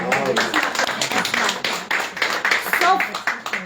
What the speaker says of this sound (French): on va l'applaudir s'il vous plaît